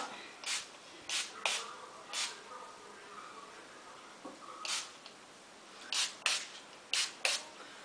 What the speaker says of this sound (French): je spray ça